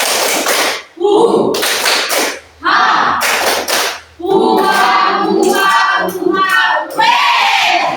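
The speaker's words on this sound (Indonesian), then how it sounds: "Oke, tepuk semangat Velocity" An Indonesian classroom of students performs a rhythmic 'tepuk semangat Velocity' spirit clap: bursts of sharp group clapping alternate with loud chanted voices, close and energetic.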